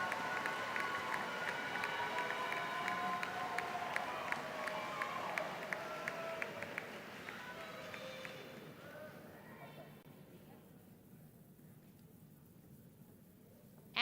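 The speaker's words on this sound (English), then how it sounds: "Let's have a round of applause for the seniors of the class of 2021." Graduation ceremony crowd applauding the class of 2021 seniors: dense, steady clapping with some cheering fills the first eight seconds, then thins and fades to scattered claps and quiet room tone.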